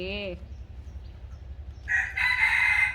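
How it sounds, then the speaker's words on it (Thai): A rooster crows near a house front at night before dawn, a loud drawn-out call rising at the end of the clip, with a brief clucking or squawk at the start over a low steady hum. "โอ้โห เสียงไก่ขันด้วย"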